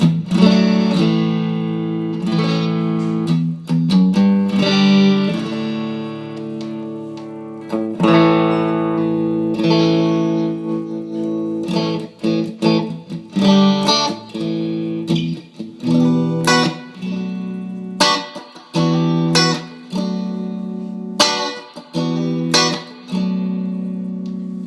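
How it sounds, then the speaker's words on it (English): A Warmoth Strat electric guitar is strummed in chords straight into an amp with Holy Grail reverb, a loud, continuous sequence of ringing chords with distinct attacks and reverberant tails, played alone with no talking. "bit of a test straight into the amp with a bit of Holy Grail for added reverb. Just going to bang on a few chords"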